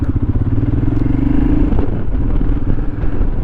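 Royal Enfield Himalayan motorcycle ridden at speed, a loud, close single-cylinder engine thumping steadily under wind rumble.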